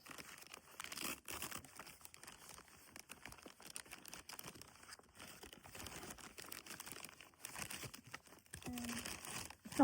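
A plastic accessories package is cut open along the top, giving continuous close crinkling and crackling of plastic with brief tearing bursts and no talk.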